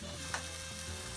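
Chopped chicken sizzling in a frying pan with onions and sliced tomato, a steady close crackling hiss with a brief louder stir partway through.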